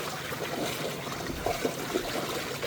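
Legs wading through knee-deep floodwater in a flooded neighborhood, producing soft continuous sloshing and swishing with a few splashy surges, fairly faint and close, no talk.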